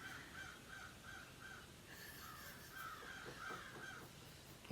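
Several crows caw outdoors in a repeated, evenly spaced series, fairly loud against steady background noise from a vehicle passing nearby.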